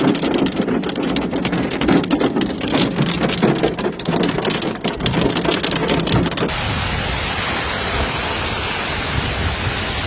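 Heavy rain with hail pours down during a thunderstorm in Italy, a dense, loud hiss of drops and ice striking surfaces that continues without a break, with crackling impacts in the first part and a smoother roar later.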